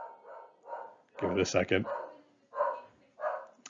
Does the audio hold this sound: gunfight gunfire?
no